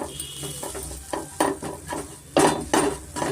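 A spoon scrapes and clinks against a pan while turmeric, coriander powder, pepper powder and cumin powder are stirred in for egg shavige bath, producing soft irregular scraping strokes with a few sharper metallic knocks near the end.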